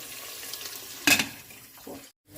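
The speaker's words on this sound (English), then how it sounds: "So we wait till the onions become golden brown." Onions frying in oil for a mutton curry give a soft, steady sizzle, with a brief louder stir or scrape near the middle and a short drop to silence near the end.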